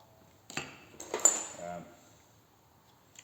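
Metal hand tools clinking as they are handled from a toolbox, including a scraper blade and a file. A few close, light clanks and jingles come in short bursts, then it goes quiet.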